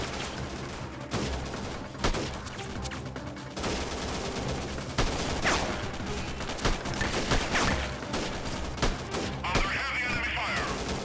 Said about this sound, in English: I do need to give them a little bit of covering fire